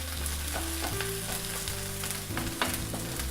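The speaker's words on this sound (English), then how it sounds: "And let that sizzle." A Korean seafood pancake, haemul pajeon, sizzles steadily in a hot frying pan, a close, continuous crackling fry with faint clicks of cookware and no talking.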